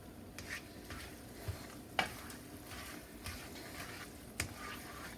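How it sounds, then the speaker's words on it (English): Pasta coated in a white sauce with eggs cooks gently in a pan over low heat, giving a soft, steady sizzle with occasional light stirring scrapes and clinks, faint and close with no talking. "Turn my pan back onto a low heat."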